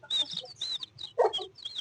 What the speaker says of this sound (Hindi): ये हमारी प्यारी मुर्गियां